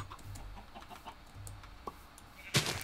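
A Minecraft chicken clucks in short soft bursts within the game, fairly faint amid quiet background noise, followed by a sharp loud click near the end.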